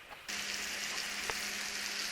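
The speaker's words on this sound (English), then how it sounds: "add the butter and brown it" Butter browning in a frying pan over medium heat for an apple pie, a soft, even sizzle that starts abruptly and holds steady, fairly faint and close.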